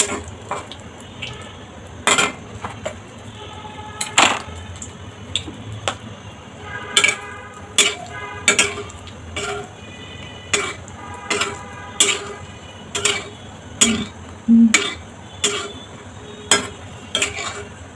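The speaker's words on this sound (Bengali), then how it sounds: "এখন এই তেলে আমি মরিচ ভেজে নেবো" Chilies fry in hot oil in a pan while a utensil knocks the pan in a regular series of sharp clinks about once a second over a low, steady sizzle, close by.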